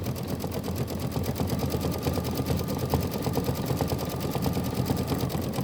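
A computerized embroidery machine stitches out a Kimberbell Christmas quilt block on Moda fabric, its needle running in a steady, fast, even rhythm that stays close and continuous throughout, with no talking.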